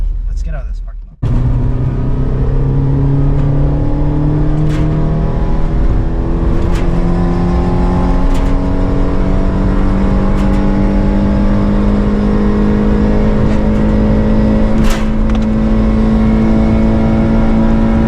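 A Toyota 86 with its stock exhaust is floored from a parking lot, the engine rising in pitch through several gear pulls, loud and close, starting abruptly after a brief quiet moment.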